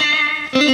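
Short burst of fast, percussive tape echo from a Roland RE-150 Space Echo, with dense ringing repeats and a fresh attack near the end.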